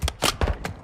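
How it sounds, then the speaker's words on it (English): A magazine swap on a rifle in Modern Warfare II, with a quick series of four mechanical clicks and clacks packed into under a second, close and crisp. "Changing mags!"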